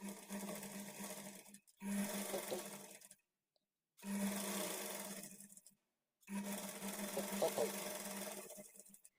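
A sewing machine stitches a blouse seam in three separate bursts of steady whirring separated by short silences, close and fairly quiet.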